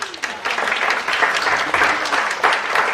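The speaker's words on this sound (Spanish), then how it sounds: "Un aplauso, por favor." Audience applause at an academic panel session, a loud, lively burst of many hands clapping in uneven surges that continues steadily for a few seconds without talk.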